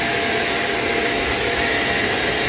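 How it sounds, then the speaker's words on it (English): Steady, loud whirring roar of a Shark vacuum cleaner running continuously at close range on carpet. "But this is a very good vacuum cleaner."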